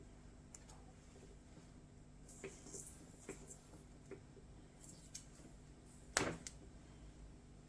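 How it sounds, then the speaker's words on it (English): Shears snip knotted rope ends in several small cuts, faint and close with quiet pauses between, ending in one sharper, louder crunch near the end. "to get rid of these knots I'm just going to use a pair of shears"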